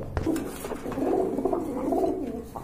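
A breeding pair of pigeons coos close by, soft throaty calls rolling in quick succession for a couple of seconds against a quiet background.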